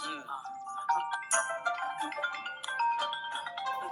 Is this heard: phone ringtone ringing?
yes